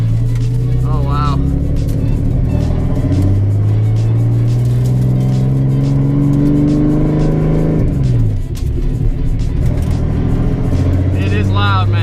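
A Nissan 240SX engine in a loud street car revs hard and repeatedly, its pitch climbing and falling close by, with excited voices talking and shouting over it.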